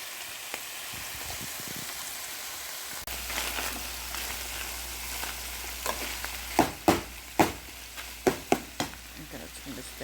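Meat for chili browns in a hot pan, giving a continuous quiet sizzle; partway through, a run of sharp scraping and stirring clacks from a utensil against the pan stands out above the hiss.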